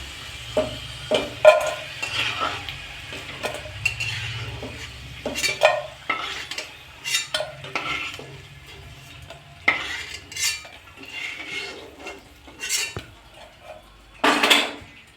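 Fried potato strips are lifted one by one out of a pan of oil, with repeated metal clinks and scrapes of a spatula over a faint background sizzle.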